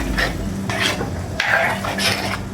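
A spoon stirs ground masala paste through a prawn ball kuzhambu in a metal pot, four or five scraping strokes in rhythm over a low sizzle, close and clear with no talking.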